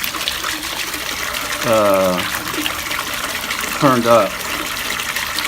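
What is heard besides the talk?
patio pond fountain foam jet splashing water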